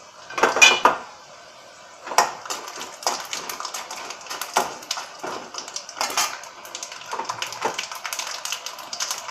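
Mustard seeds hit a hot pan during South Indian cooking, giving sharp crackling pops and clatters in irregular bursts, close and fairly loud, with utensil clinks between them.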